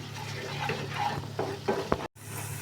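Tomato puree and masala fry in a pan for shahi paneer, a close sizzle with scraping stirs and a few soft clinks before a brief cut.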